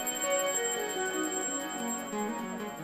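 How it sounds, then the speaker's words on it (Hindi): A bell or chime rings steadily at close range with a bright, sustained metallic tone that carries through the whole short stretch, no talk over it. "जैसे ही जरा सा माखन मुख से लगाए तो घंटी जोर जोर से बजने लगी"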